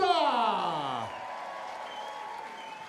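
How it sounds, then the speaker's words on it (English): A darts crowd at the WDF Lakeside World Darts Championship applauds as a player leaves the stage, a brief whoop over clapping that fades into softer, distant applause. "a massive round of applause as she leaves the stage, Anka Zijlstra!"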